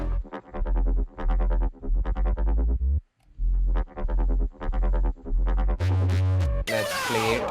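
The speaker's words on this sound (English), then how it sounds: "If we listen to the bass group in its entirety, this is how it comes together." Bass section of an electronic remix, with a deep sub bass, a gritty Reese bass and punchy stabs in a repeating rhythmic pattern, a brief dropout midway and a filtered sweep at the end.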